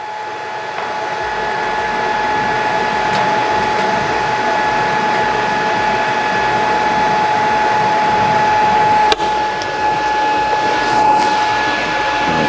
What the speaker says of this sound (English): that is how you complete the TIG when you're using a 1/8 and a 3/32 filler rod